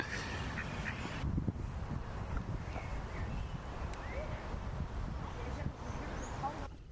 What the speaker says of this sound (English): I swear it's a mallard, but I'm not like a duck expert